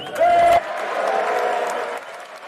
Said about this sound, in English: each one of which leads to a burst of applause